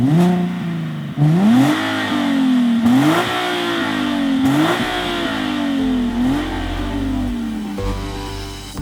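A Nissan 370Z Nismo engine revs high in a string of rising and falling sweeps, loud and close, with a deep mechanical drone underneath.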